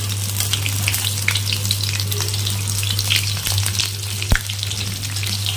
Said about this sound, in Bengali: করে আমি সব পনিরগুলো ভেজে নেব এক এক করে।